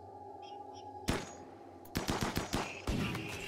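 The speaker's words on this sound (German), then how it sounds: "Das war ein guter Schuss." Gunfire in the video game RimWorld: a single sharp shot, then a rapid burst of several reports and another shot, fairly loud, with a low ambient hum beneath and no speech.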